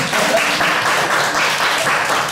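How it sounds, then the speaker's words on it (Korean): Audience applause at a middle-school student debate competition, continuous broad clapping from a crowd filling the whole stretch without talk. "예, 박수 한번 주세요."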